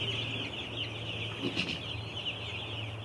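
Broiler chickens in a poultry shed on a hot day make soft, overlapping clucks and murmurs over a steady fan-like hum, with a slightly louder burst midway.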